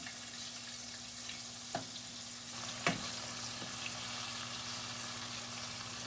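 Coconut shrimp fry in a pan with a continuous, even sizzling hiss, close up, broken only by a couple of faint clicks and a brief louder clink partway through.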